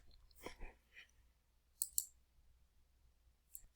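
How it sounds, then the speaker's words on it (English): A computer mouse clicks a few times while a word-processing document is edited, with two close, sharp clicks in quick succession and a fainter click a moment later, set against quiet room noise. "click away from the picture"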